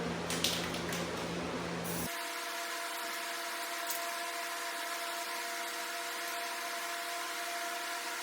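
Spray gun laying the final coat of paint on a Jeep Gladiator gives a steady, even hiss with a faint tonal hum, preceded by a brief, different noisier start.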